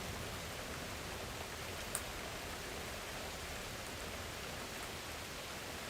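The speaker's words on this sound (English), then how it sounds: "Look at the rain across the lake." Steady rain falling across a lake, an even, soft hiss of drops that continues throughout with no other sounds standing out.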